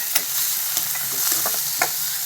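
Four or five cashews fry in hot oil in a pan, a bright steady sizzle close up with a few sharp spatula scrapes and taps.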